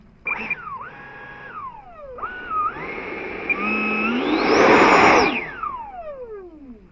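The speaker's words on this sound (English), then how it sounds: "Let's see if the EDF works" An electric ducted fan on a Freewing F-16 90mm model jet spins up in short whining bursts, then climbs to a loud, rising full-power whoosh before winding down, heard close after a crash.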